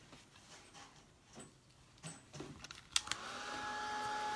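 A handheld hair dryer starts up and blows steadily to dry paint on a painted Santa beard, a loud constant whir after a few clicks and faint handling sounds.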